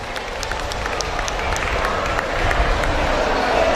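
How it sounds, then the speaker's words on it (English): Audience applause at the St. Louis School Don Bosco grand alumni homecoming, welcoming the new alumni president: a dense, steady wash of clapping from a crowd that swells slightly toward the end, with faint cheering mixed in. "A big hand of applause, please."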